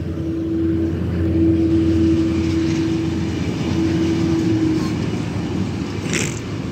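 A diesel locomotive pulls a train away from Platform 1 at Deal with a loud, steady engine rumble and a sustained tonal drone. A brief higher hiss near the end sounds like brakes or air releasing.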